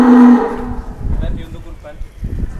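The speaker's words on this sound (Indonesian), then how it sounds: "ini barangkali ada sapi kurban ya Mas Slamet." A large Pegon cattle bull lets out a single loud, close moo at the start, followed by shuffling noises and someone speaking.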